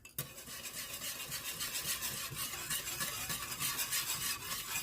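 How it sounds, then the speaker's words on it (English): A whisk stirs a thickening macaroni and cheese sauce in a pan, giving a steady, close scraping and swishing with a soft sizzle underneath, continuous for several seconds with no talking. "Give it a good whisk."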